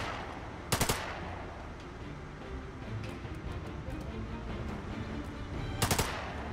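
Gunfire in the turn-based game The Lamplighters League: two short, sharp bursts of rapid shots, one early and one near the end, over a dense layer of game ambience and background noise.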